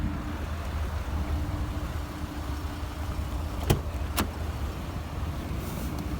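Car engine idling with the battery cable disconnected, a low steady rumble heard fairly close, with two brief sharp clicks partway through.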